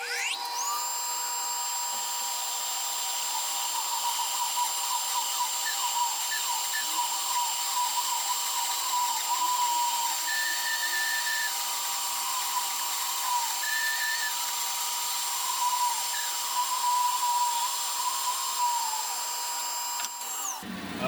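A bandsaw cutting an oak bowl blank, a continuous high whine with a steady motor drone and faint chirping squeals as the blade moves through the wood, lasting the whole stretch.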